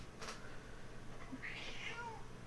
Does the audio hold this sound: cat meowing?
yes